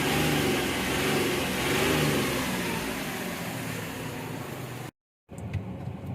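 A 2018 Hyundai Xcent diesel engine runs steadily up close with a rough, even drone that cuts out abruptly near the end, then returns briefly and more quietly.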